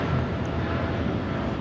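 A Volaris Airbus A320 arriving at Los Angeles International Airport in fog, its engines producing a steady, broad roar that holds at an even loudness throughout without breaks.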